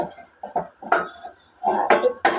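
Pots, dishes and cutlery clattering and clinking during washing up, a string of sharp close knocks and scrapes with quiet gaps between them.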